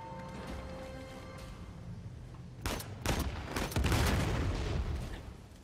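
Gunfire in Uncharted 4 breaks out after a few quieter seconds of game ambience, several sharp cracks and a heavy burst of impacts up close.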